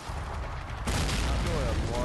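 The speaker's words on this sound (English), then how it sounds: "Okay, so artillery fire." Artillery fires in the war game Men of War: Assault Squad 2, with a sudden heavy boom rolling into a dense, sustained blast of noise after a quieter rumbling lead-in.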